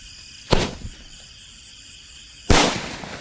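Two sharp cracks from a small sky shot firework burst nearby, about two seconds apart, each with a short ringing tail over a quiet outdoor background.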